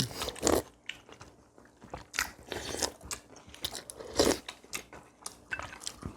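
Close-up bites and chewing on rice cake during a Korean Chuseok holiday meal of galbi-jjim and other dishes: several sharp, crunchy bites followed by wet mastication, with soft murmurs in between.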